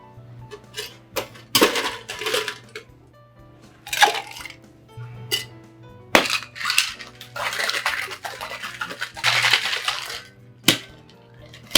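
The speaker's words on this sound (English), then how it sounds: "Then we're going to add a bunch of ice, shake it, and we're going to serve it up in a coupe again." Ice rattled hard in a cocktail shaker while mixing a gimlet, loud irregular bursts of clattering and crashing with short pauses between shakes, close up.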